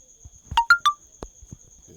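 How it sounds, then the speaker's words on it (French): A phone notification chime, three quick bright tonal beeps rising in sequence, rings out close and clear over a quiet room while a logo is being designed in PixelLab, with faint clicks and low murmurs around it. "La notification, c'est pas grave."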